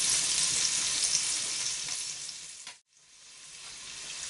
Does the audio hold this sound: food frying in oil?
yes